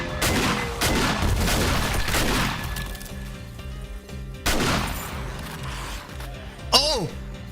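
Repeated gunfire in the zombie survival game 7 Days to Die, loud cracking bursts in quick clusters that come and go, with excited talking over the shots and a brief lull in between.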